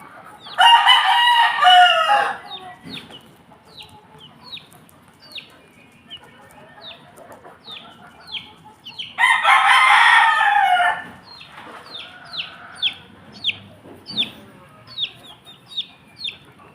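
Pumpkin hatch chickens in a backyard: two loud bursts of rooster crowing, each about two seconds long, followed by a run of short, clipped hen clucks repeating steadily in the background.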